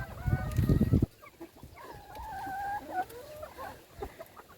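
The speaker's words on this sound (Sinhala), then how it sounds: "කුකුල් ඉන්නවා මං ගාව 50ක් විතර ඉන්නවා." Chickens on a small farm cluck and call close by, a loud burst of fowl noise at first, then a drawn-out cackling call and scattered shorter clucks, with no talking.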